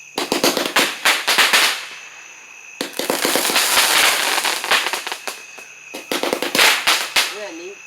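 Fourth of July fireworks go off close by in rapid crackling volleys of firecracker-like pops, three bursts separated by brief pauses, with people talking over them.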